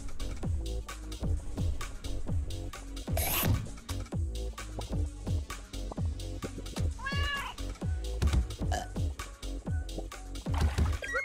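A cat in the video game Turnip Boy Commits Tax Evasion meows and wails repeatedly over a steady, rhythmic ticking beat, with no talking.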